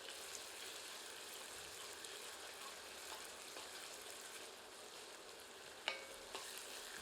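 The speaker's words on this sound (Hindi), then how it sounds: "प्याज को मध्यम आंच पर तब तक भूनते हैं जब तक कि प्याज सुनहरी नहीं हो जाती" Onions fry in oil over medium heat for a chicken curry, giving a quiet, steady sizzle with a faint clink of stirring partway through.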